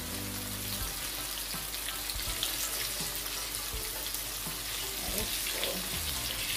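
Pieces of Jamaican-style barbecue chicken sizzle steadily in hot frying oil, a continuous crackling hiss heard up close and alone, with occasional louder pops and spatters.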